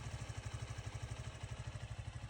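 A Suzuki V-Strom 160 air-cooled motorcycle engine idles after a seven-hour ride, giving a steady, close, even low thumping pulse with no talk over it.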